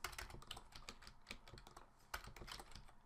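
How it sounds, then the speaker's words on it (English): Fingers typing on a computer keyboard, a quick irregular run of close, crisp key clicks with brief pauses between bursts, no voices. "I type the word hello"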